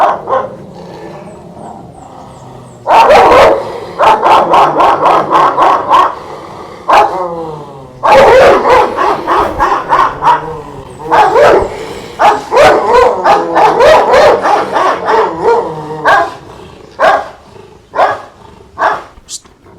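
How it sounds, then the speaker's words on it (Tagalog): Several dogs bark loudly in rapid bursts, close and agitated, with yips and growls between the volleys. "hindi sila titigil sa pagtahol"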